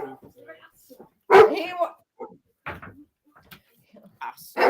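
A dog gives a few short barks and yips during a lively home greeting, sharp close bursts scattered among people's chatter and quiet gaps.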